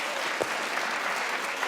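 A talk show studio audience applauds in a brief, steady wash of clapping, fairly even and moderately loud throughout.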